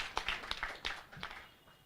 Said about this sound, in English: I think that deserves a very huge round of applause